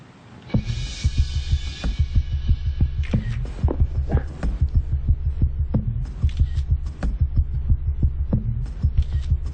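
Smartphone running the Cycloramic panorama app spinning itself on a surface, giving a steady low buzzing hum with rhythmic throbbing pulses and faint camera clicks, close and continuous.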